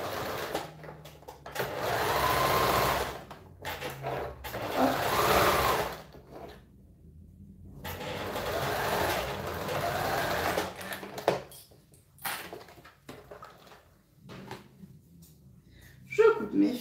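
An electric sewing machine stitches fabric for homemade underwear in several separate bursts of close whirring, with short pauses and some speech between the runs.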